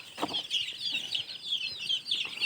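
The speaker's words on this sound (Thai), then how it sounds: "ลูกไก่" Chickens on a small rural farm cluck and peep in a steady, busy stream of short calls, fairly close, with chirping bird-like chatter throughout and no talking.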